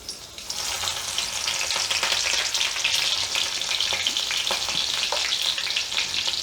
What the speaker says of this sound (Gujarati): તેલ આપણું ગરમ થઈ ગયું છે હવે એમાં આપણે પહેલાં લીલા મરચાં એડ કરીશું